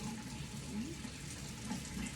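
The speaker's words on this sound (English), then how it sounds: "run some warm water." Warm water runs steadily from a tap for the whole stretch, a continuous close, moderately loud splashing hiss with no pause.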